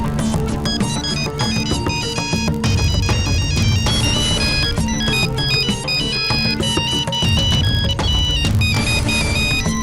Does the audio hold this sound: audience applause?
no